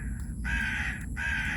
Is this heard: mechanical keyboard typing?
no